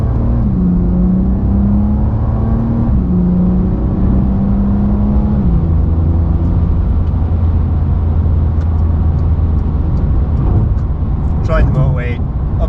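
Porsche 992 without sports exhaust accelerating in second gear, a steady engine drone and road rumble whose pitch climbs and then settles, heard from inside the car under someone speaking.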